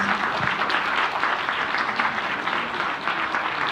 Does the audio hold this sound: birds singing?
no